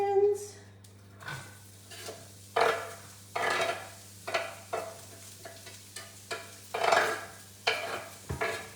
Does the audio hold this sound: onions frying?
yes